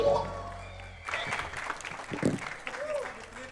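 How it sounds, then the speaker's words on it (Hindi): An audience on a comedy show stage claps for the live band, a burst of applause rising after a host's voice and carrying on under further talk. "जोरदार तालियां हमारे साथियों के लिए।"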